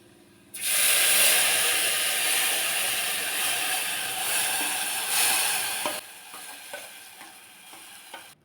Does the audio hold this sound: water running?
no